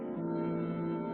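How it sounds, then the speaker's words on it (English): Solar oscillations of the Sun, recorded by NASA and converted into audible sound, form a steady, dense humming drone with layered tones that holds level for about a second, with no other sounds. "scientists converted those solar oscillations into frequencies we can hear"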